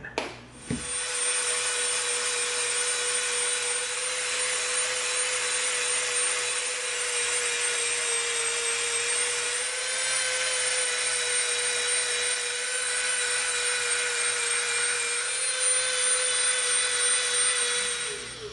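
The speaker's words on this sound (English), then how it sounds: "now we're going to use the Dremel and we're going to go from this line to this line" A Dremel rotary tool cuts through EVA foam in one continuous high-pitched whine, with steady grinding and rubbing along the cut and no talk.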